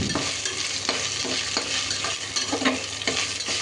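Onions and green chilies frying in a pan with a little coriander are stirred, giving a steady close sizzle broken by repeated scraping strokes of a spoon, with no one speaking.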